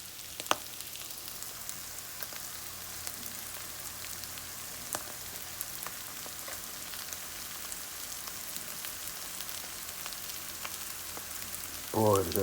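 Butter sizzles in a pan with cooked peas, a steady fine crackle like light rain that carries on evenly, ending with a short louder clatter.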